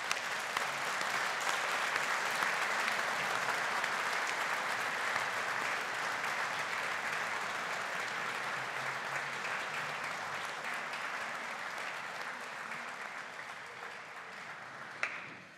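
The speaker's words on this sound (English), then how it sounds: "show your appreciation and gratitude with a round of applause for your family, your friend, and your supporters" Sustained applause from a large audience at a university business school graduation ceremony, steady dense clapping filling the hall for about fifteen seconds before ending abruptly, with no speech over it.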